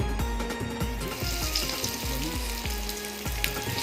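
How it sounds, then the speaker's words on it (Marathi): Prawn lollipops deep frying in hot oil, a dense continuous bubbling crackle close by with a low rhythmic churning underneath, no voices. "तेल चांगलं तापलं आहे तर चला लॉलीपॉप तळून घेऊया"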